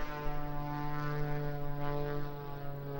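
A propeller airplane flies aerobatics over a hydroplane race, its engine drone steady and fairly loud with a strong tonal hum that swells slightly, alone without talk.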